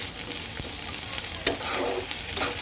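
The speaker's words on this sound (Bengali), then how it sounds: "দেখো আদা রসুনটা কিন্তু সুন্দর ভাজা হয়ে গেছে।" Ginger, garlic, bay leaves, cardamom and cinnamon fry in oil in a wok, a continuous crackling sizzle with scattered pops and a spatula scraping and stirring, close and steady, without speech.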